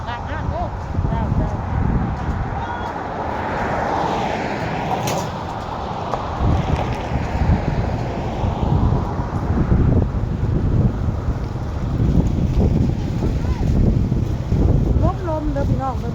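Strong outdoor wind gusts buffet the microphone in a steady broadband roar with low rumble throughout, while people talk over it at a roadside market stall.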